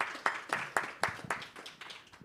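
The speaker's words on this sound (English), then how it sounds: "Let's give him a round of applause." A small conference room audience at a vaccine session gives brief, fairly faint applause, a handful of distinct claps in a loose rhythm that thins out toward the end.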